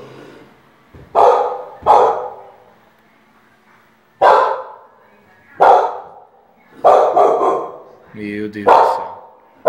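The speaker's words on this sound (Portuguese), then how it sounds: "a cachorra começa a latir na escada" A female dog barks in loud, sharp bursts from a staircase at night, several separate barks spaced over several seconds, with a person's voice speaking between them.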